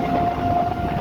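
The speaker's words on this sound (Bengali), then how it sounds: "আমাদের পাশ দিয়ে কিন্তু এখন ট্রেন যাচ্ছে" An Amghata line train passes close by in a short burst of heavy rumble under a steady tonal whine.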